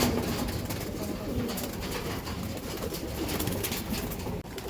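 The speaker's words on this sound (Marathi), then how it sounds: "हे रेसिंग पिजन बघू शकता तुम्ही क्वालिटी" Racing pigeons coo softly and repeatedly inside a loft, a low continuous murmur of many birds close by with faint rustling and a voice in the background.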